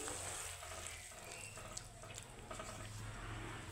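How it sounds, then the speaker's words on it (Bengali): Warm water pours into a cooking pot of gravy, giving a steady, close rushing splash with a faint sizzle underneath, continuous for a few seconds. "তো এখন আমি দিয়ে দিব জল, তো এখানে জলটা আমি উষ্ণ গরম জল দিয়েছি।"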